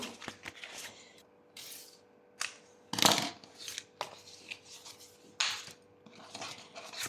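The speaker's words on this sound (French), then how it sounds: "je vais découper le surplus. Il faut juste que je ne me foire pas. Je vais le faire avec les ciseaux" Scissors cut away excess vinyl around a Cricut-cut design in a series of close, crisp snips and rustles, uneven bursts with short pauses between them, with no talking.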